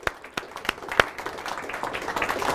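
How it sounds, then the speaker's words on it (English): A leadership training audience applauds volunteers, starting with a few distinct sharp claps that quickly swell into a denser, building round of applause. "Give our volunteers a nice round of applause."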